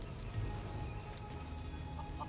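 Hens cluck faintly in a Final Fantasy VII Rebirth farm scene, a few soft clucks over quiet ambient background.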